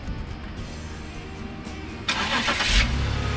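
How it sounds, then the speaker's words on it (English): A 2006 BMW X5 started by remote start: quiet ambience first, then the engine cranks and catches about two seconds in, settling into a louder, close idle rumble. "Remote start."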